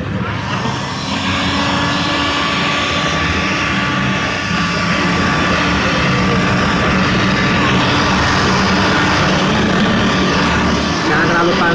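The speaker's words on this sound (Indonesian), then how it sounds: "karena ini dalamnya kita panasin dulu pakai hot gun" A heat gun blows hot air onto a Vario 150 scooter stop lamp, making a loud, close, continuous roar that holds steady throughout.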